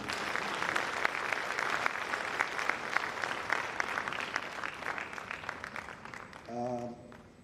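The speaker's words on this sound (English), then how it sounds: "Let's give him a round of applause again." A room full of people claps steadily for several seconds, then the applause fades and a voice begins speaking near the end.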